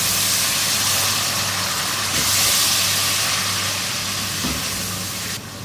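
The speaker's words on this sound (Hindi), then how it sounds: "मसाले को भूनेंगे।" Masala spices frying in oil, with whisked yogurt for an aloo biryani or pulao, give a loud, steady sizzling hiss that stays even throughout with a couple of brief stirring clunks, then drops off slightly at the end; no voices.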